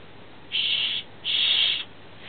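A homemade survival whistle made from trash gives two shrill, steady blasts close by, the second longer than the first, each a bright piercing tone over a faint background hiss.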